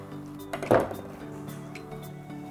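Mustard greens tipped into a pot of wonton soup broth give one clattering, splashing burst up close, with quieter kitchen clinks and a low simmer trailing after it.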